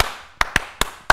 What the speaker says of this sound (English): Can I get a clap sync, please?